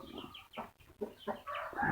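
A Burmese fighting rooster clucks and makes short throaty calls in a rapid close series, loud and near with no talk over it.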